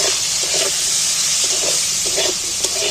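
Onions with four or five green chilies sizzle and hiss steadily in hot salted oil in a pan, a continuous close, fairly loud frying noise with no talking.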